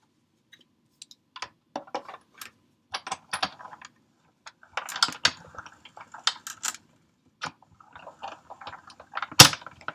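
A Big Shot die-cutting machine cutting through two card layers on the front of a Christmas card, giving sparse clicks and creaks followed by a denser run of mechanical crunching, with one sharp louder clack near the end.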